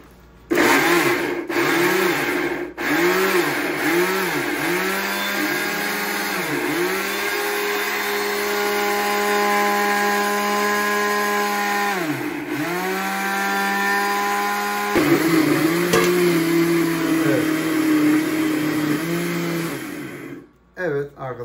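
A food processor chops peppers, spices and salt for lahmacun filling, pulsing in short bursts at first, then running in a long, loud, steady whir with brief dips in speed; a voice talks faintly over it.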